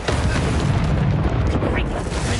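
A Reducto spell blast in Hogwarts Legacy erupts as a loud, dense, booming roar that fills the whole moment without a break.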